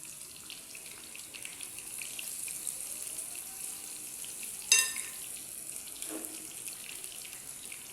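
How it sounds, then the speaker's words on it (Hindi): Five pieces of fish fry in oil in a pan, giving a faint, steady, hissing sizzle with a brief clink partway through. "3 से 4 मिनट तक मैं इसको इसी तरह से फ्राई करूँगी"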